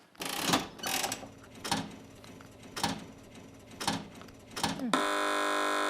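A series of sharp, evenly spaced clattering bursts, then a loud, sustained electronic quiz buzzer tone on a TV panel show that holds to the end.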